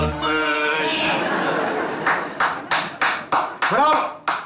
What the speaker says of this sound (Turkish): Bravo, bravo. Yanlış anlamayın, bu protesto alkışı artık.